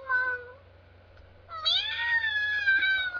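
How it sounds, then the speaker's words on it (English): Two cat meows in the visual novel game Kanon, a short one followed after a pause by a longer, drawn-out wail, clear and close with a faint low hum beneath. "Oh, that cat voice is so ridiculous."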